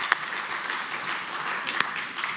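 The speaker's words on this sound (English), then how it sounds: "Dr. Hyatt sounds like an incredible man, so I think that deserves another round of applause" Brief round of applause at an awards ceremony in Silicon Valley, fairly quiet and distant, with steady clapping and a couple of sharper claps standing out.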